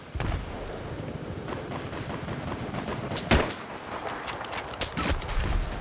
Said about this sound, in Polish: G18 to jest świetny pistolet który strzela bardzo szybko